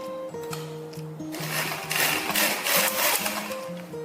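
Sewing machine stitching a seam, a close, fast rhythmic whirring hum with bursts of needle clatter rising and falling over a few seconds.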